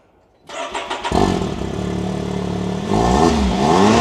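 Can-Am Maverick 1000RR DS Turbo buggy engine starting up close after a brief quiet moment: a loud, sputtering crank catches into a steady idle, then climbs into a louder rev near the end.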